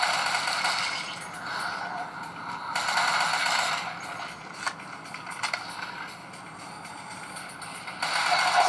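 Gunfire in the zombie shooter game Dead Trigger, played on an Android HTC One X phone: bursts of shots and sharp cracks over a continuous gritty game soundscape.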